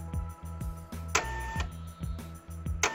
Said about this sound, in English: Press the pause button to calibrate the printer.